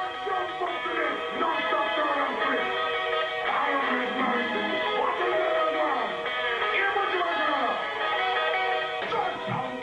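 Jungle track sampling a ragga vocal, from a compilation, plays as a dense, steady mix. A chanted, melodic voice sits over continuous music at moderate level, slightly muffled as if heard off a broadcast.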